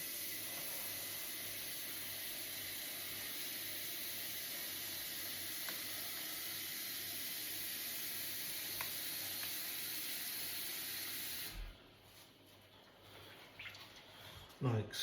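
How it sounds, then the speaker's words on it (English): A saucepan of penne pasta fills with water from a tap, a steady bright rushing hiss that cuts off abruptly near the end, followed by quieter handling sounds. "We fill it up with water."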